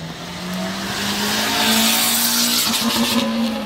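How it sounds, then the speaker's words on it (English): A Lamborghini roars past nearby in Florida, its pitch climbing and swelling in a continuous loud rush with a hint of tire noise, no voices. "Florida people race by with Lamborghinis"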